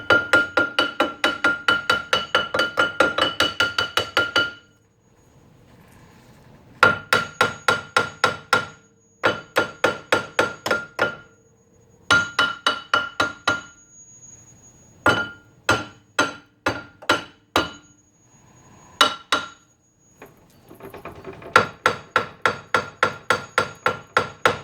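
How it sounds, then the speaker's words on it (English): Loud metal-on-metal hammer blows striking a rust-welded brake disc on a 2001 Ford Fiesta, coming in rapid bursts of ringing strikes separated by short pauses, close and sharp. "so we're going to need Mr. Hammer again."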